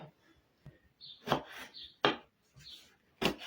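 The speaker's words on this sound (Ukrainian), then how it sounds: "Але я трішки покришу" A knife chops peppers on a cutting board, a handful of close, sharp, irregular thuds spaced across a few seconds in a quiet kitchen.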